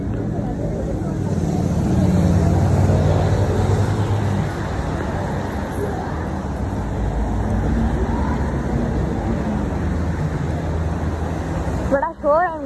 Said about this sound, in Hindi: बड़ा शोर है गाड़ियों का,